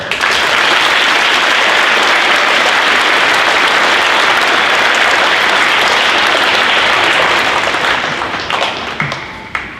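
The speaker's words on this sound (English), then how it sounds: "Let's give them one more round of applause." Dense, loud applause fills a Veterans Day ceremony at a high school. It holds steady for about eight seconds, then thins out into a few last claps near the end.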